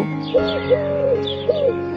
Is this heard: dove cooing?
yes